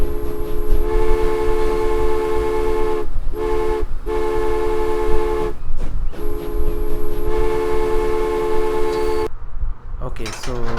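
Train in the Transport Fever video game runs with a steady loud engine rumble and a long sustained horn tone, sounding in several blasts with short gaps.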